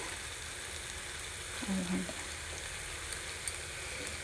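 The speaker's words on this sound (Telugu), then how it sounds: "ఒక్కసారి ఇలా అట్ల పేనం మీద వేపండి" Paneer pieces fry on a flat dosa pan for a paneer and green pea curry, giving a low, steady sizzle under a brief clatter of turning or stirring, with no talk.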